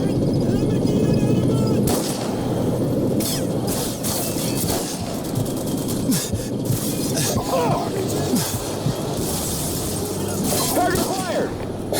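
A tank cannon fires in a war video game, with heavy booms layered over constant loud gunfire and rumble throughout, while voices talk over the battle.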